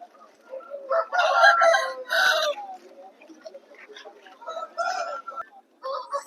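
A country rooster crows nearby at a poultry market in Vijayawada, a loud drawn-out call, followed by softer clucks and scattered fowl noises against a quiet background.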